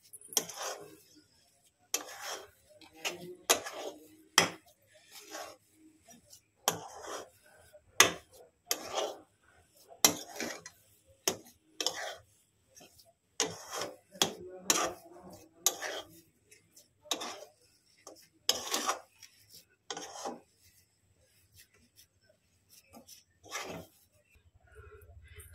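Rice sandesh dough with ghee being stirred and pressed in a pan, giving repeated soft scraping and tapping knocks at an irregular rhythm, close and fairly quiet, with no talk over it.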